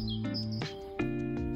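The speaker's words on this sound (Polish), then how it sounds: "Cudnie śpiewają ptaki." Birds sing outdoors at a horse riding ground, a clear close chirping song of sustained whistled tones that step between pitches, steady and moderately loud, with no one speaking.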